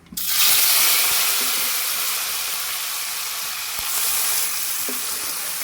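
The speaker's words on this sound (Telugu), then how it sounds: "ఇలా మసాలా చికెన్ని ఫ్రై చేసుకోవాలి" Masala chicken frying in a kadai for Andhra-style chicken fry, a loud dense sizzle starting abruptly and holding steady, with a few soft stirring knocks and no talk.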